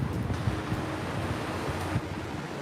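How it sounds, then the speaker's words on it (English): Strong wind buffets the microphone with low, rumbling gusts, steady and loud throughout the short stretch, outdoors at Magic Kingdom. "Can you guys hear the wind?"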